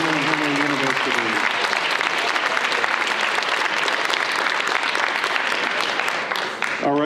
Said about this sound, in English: one more round of applause for Madison, Ricketts